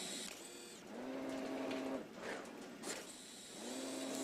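A pick-and-place packing robot handles boxes on an automated packing line, giving a loud mechanical whir with rising and falling motor tones in repeating cycles, and no talking.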